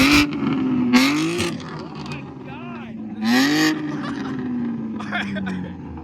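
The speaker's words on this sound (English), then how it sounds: "this is probably one of the loudest G80s I've ever heard" A BMW M3 G80 with no mid pipe revs hard through a loud exhaust, with repeated sharp blips that rise and fall close by while people talk excitedly over it.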